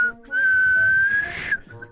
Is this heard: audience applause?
no